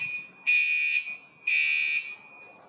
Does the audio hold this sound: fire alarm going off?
yes